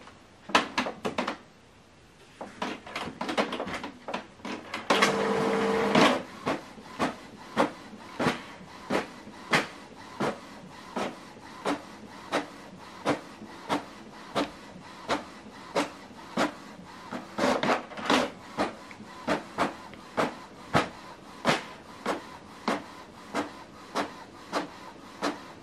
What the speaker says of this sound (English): Printing is completed, then you select OK.